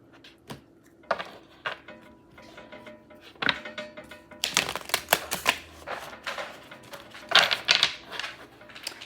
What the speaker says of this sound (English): let me go ahead and shuffle our deck